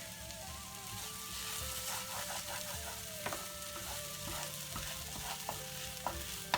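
Corn kernels and courgette frying in a pan, a steady close sizzle with scattered sharp crackles and pops throughout, no talking.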